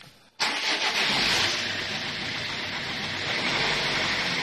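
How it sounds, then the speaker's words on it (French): A Peugeot 807 diesel engine cranks briefly and catches, then settles into a steady, loud, close idle with a broad clattering roar that holds for several seconds, no voices. "mettez votre véhicule en route"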